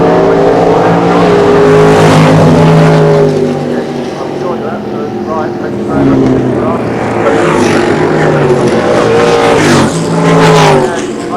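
Drag racing cars, including a Vauxhall Florenzi, roar at Santa Pod Raceway at the 1990 Mayday Springnationals, with loud engine noise rising and falling in waves under steady commentary.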